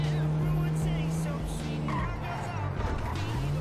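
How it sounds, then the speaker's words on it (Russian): Battered, damaged car drifting in GTA 5, engine droning steadily and tires squealing and skidding throughout, loud and close, with someone talking over it. "Идем в дрифт."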